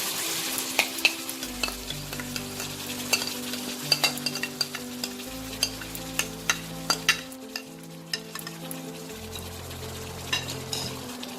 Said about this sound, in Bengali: এখন আমি এতে ম্যারিনেটেড চিকেনটা দিয়ে দেবো।